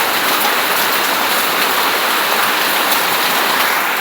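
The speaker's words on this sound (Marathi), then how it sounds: "पाऊस पडते आणि आपली" Steady, dense rain falls outside a home balcony on a monsoon morning, a loud, even hiss of drops hitting surfaces with no pauses and no voices.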